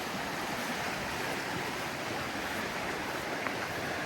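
The River Teign flows in a constant broadband rush of water, steady and unbroken, with no voices over it.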